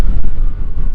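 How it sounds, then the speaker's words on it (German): Strong desert wind in Wadi Rum, Jordan, buffets the microphone as a loud, continuous low rumble that surges and dips over a second, with no voices heard. "Es ist zwar sehr windig hier, aber okay."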